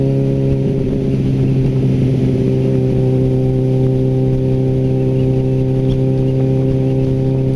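A motorcycle engine runs steadily up close, its low harmonic idle droning loud and continuous for the whole stretch, with a slight rise in revs early on.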